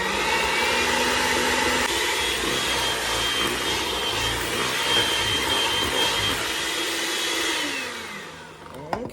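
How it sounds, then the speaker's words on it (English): Handheld electric beaters whir steadily while creaming butter for cowboy cookies, a loud continuous motor buzz that shifts pitch slightly as the load changes, then winds down near the end. "we're going to beat this butter up and get it creamy"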